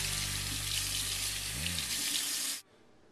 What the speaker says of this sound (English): Probably going to run this one more time through the water just to kind of clear all the seeds out of here.